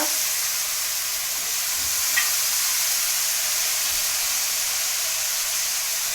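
Onions frying in a pan for an old-style eggplant and dried fish curry, a steady broadband sizzle that holds evenly throughout with a brief stir near the middle.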